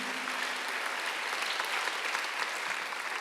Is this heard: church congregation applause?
yes